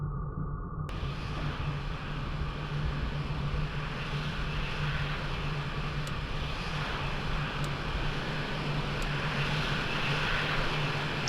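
Jet engine of an F-16 fighter taxiing too fast on an airfield taxiway in the flight simulator Falcon 4 Allied Force, a steady loud rumbling roar with a constant hum, heard alone after a brief quiet start.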